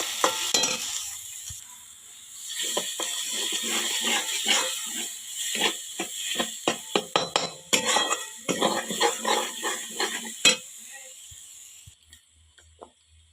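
A spoon scrapes and stirs ghati masala in oil in a pan over a wood-fired chulha for dry mutton, with steady sizzling, clinking against the metal pan and a rhythmic scraping that quiets near the end.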